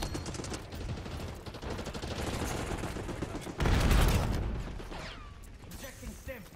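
ASG-89 shotgun firing in Call of Duty Black Ops 6, a dense run of loud, close gunshots with mechanical handling sounds, building to a heavier burst midway, with faint voices underneath.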